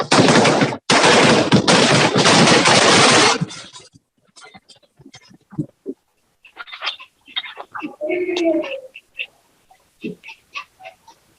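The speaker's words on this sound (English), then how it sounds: "there are smaller, more intimate fireworks displays" Fireworks display at the close of a day of celebrations: a dense, loud volley of crackling bursts for the first few seconds, then scattered pops and sharp cracks with fainter background noise.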